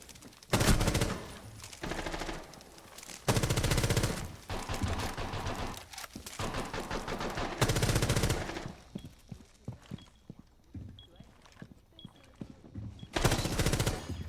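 Bursts of loud, close gunfire from the Rainbow Six video game, several sustained automatic volleys separated by short pauses, with a final burst near the end.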